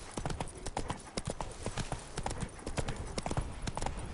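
Roach the horse trotting in a video game, hooves beating out a quick, regular clip-clop on hard ground at moderate volume, with faint game ambience and a brief voice under it.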